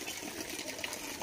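Heavy monsoon rain pours down all around, giving a steady, close, rushing hiss of water with no pauses.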